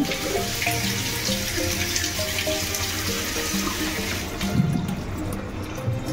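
Water pours steadily into a cooking pan while moong dal is prepared with cabbage in an Odia kitchen, a continuous close splashing trickle with a brief louder gush near the end.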